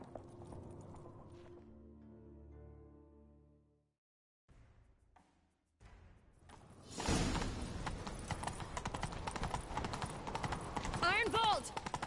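Horses gallop in pursuit in The Witcher 3: after a quiet pause and a tonal swell, rapid clip-clop hoofbeats come in loud and close, running continuously with faint game voices in the mix.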